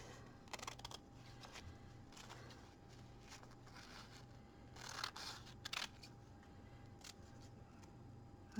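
Scissors snip through delicate tissue paper in a series of short, crisp cuts, irregularly spaced and close, against a quiet room with a faint low hum.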